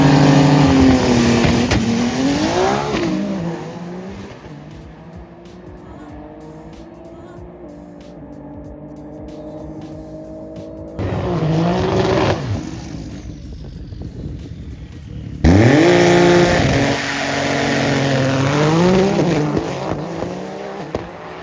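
Nissan GT-R cars rev hard and launch at the TX2K drag racing event, producing loud, close, rising engine roars with tire squeal. Surges repeat in bursts, while a crowd and some voices are heard in the background.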